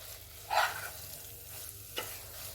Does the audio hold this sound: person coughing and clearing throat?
no